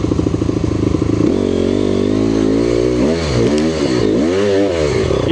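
A dirt bike revs hard while trying to climb a wet, muddy trail, its engine loud and close, holding a steady note and then surging up and down in repeated throttle bursts.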